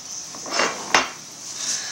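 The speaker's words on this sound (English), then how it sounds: "have my loaf pans here" Metal loaf pans clank and rattle as they are handled, two clear knocks with a sharp bright clang in the middle, close and without talk.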